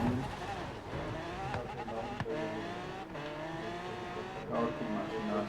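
Car engine and tires in the racing video game Forza Horizon 3, a steady loud engine drone with shifting pitch and brief tire squeal, continuous throughout.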